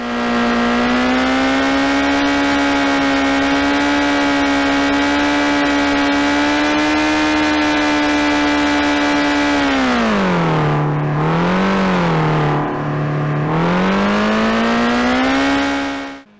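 Simulated motorcycle engine in a VR racing game, a steady loud buzzing drone that dips in pitch and rises again near the end, alone without talk.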